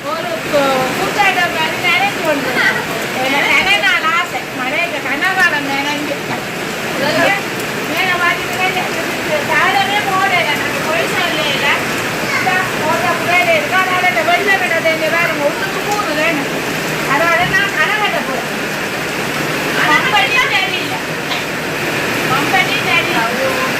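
Steady heavy rush of water pouring down like rain, continuous and loud throughout, with a voice talking over it now and then.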